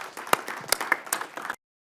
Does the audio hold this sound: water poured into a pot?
no